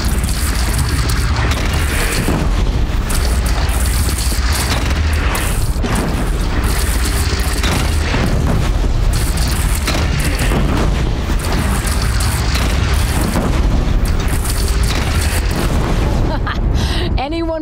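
Cannon fire and explosions in a battle in the video game Horizon Zero Dawn, a dense, loud barrage of booming blasts and bursts one after another, layered over continuous combat noise and voices throughout.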